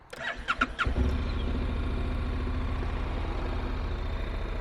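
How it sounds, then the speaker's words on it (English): A 2014 Honda CTX700 DCT ABS motorcycle cranks briefly with a few quick starter pulses, then catches and settles into a steady, smooth, close idle. "We can see it's in neutral, so all you do is hit the starter."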